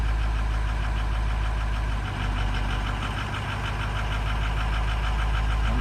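A Ford 6.0 Powerstroke diesel engine idles while warming up, a steady, loud, continuous low rumble with a faint ticking knock running through it and no pause.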